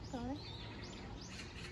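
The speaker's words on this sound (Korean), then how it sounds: "새소리" Birds chirp along a walking path near Samcheong-dong and Bukchon Hanok Village in Seoul, a few quick tweets that stand out at first and then dissolve into soft outdoor ambience under faint murmuring.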